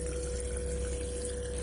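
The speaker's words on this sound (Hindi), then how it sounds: "इसके बाद हम इसमें डाल देते हैं पानी" Water poured into an elephant foot yam and velvet bean pickle, a steady, even rush of liquid with a faint constant hum beneath, with no talking.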